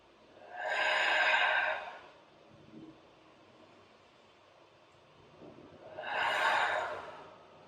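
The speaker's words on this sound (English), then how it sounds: "Take 5 deep rounds of breath." Deep yoga breathing up close: two long, airy breaths several seconds apart, each swelling and fading slowly, with quiet stillness between them.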